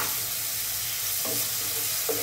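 Onions and chopped tomatoes frying in hot oil give a steady, close sizzle, with a couple of brief stirring clatters near the end and no voices.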